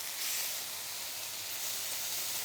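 Pork pieces searing in a hot pan give off a steady, even hiss of sizzling that holds at a constant moderate level throughout, with no talking.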